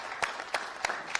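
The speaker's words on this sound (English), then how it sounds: "a clap was more than enough for Frank Smith" Four slow, evenly spaced claps, about one every third of a second, fairly faint in a press conference room for Frank Smith of the Matchroom team, with no talk over them.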